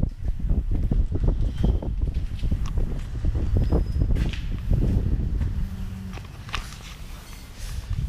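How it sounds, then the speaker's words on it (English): Outdoor wind buffets the microphone with a steady, loud low rumble throughout, joined by scattered footstep-like knocks and bumps; no speech is heard. "It's a little windy, so I hope you can hear me."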